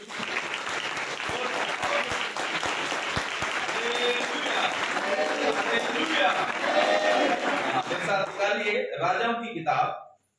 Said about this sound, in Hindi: एक बार ताली बजा सकते हैं प्रभु